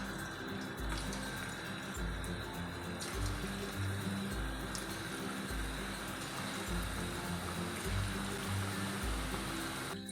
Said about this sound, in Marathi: तर आता आपलं तेल चांगलं तापलेलं आहे यामध्ये आता आपण अशी छोटी छोटी भजी काढायची आहेत